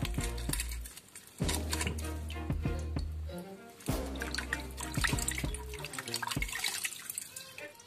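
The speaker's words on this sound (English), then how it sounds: "But you have to rinse it because of the blood." Mackerel fish being rinsed under a running kitchen tap, with water splashing and dripping steadily and close by, interrupted by short gaps and handling sounds, and no talking.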